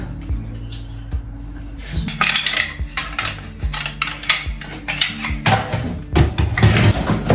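Metal spoons, a spatula and knives clatter and clink as they are handled and set down in a small home kitchen, a run of sharp, close, irregular jangles that grows busier toward the end.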